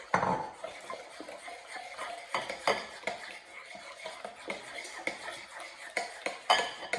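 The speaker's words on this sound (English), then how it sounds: "I'm going to add in my brown sugar and butter mixture to my bananas and my egg. And I'm going to mix that together" A utensil stirs banana bread batter of mashed bananas, egg and a brown sugar-butter mixture in a bowl, making soft, wet, repeated scraping and clinking strokes at close range with no voices.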